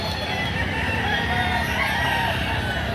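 A rooster for sale crows amid the constant noisy bustle of a chicken market in Lipa, Batangas. The crow is brief and sits within dense, loud background clamor.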